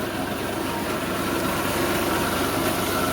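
A tractor engine runs steadily at a loud, even idle close by on a farm during bundle loading, with a constant low rumble and no break.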